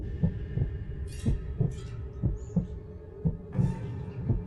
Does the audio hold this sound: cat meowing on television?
no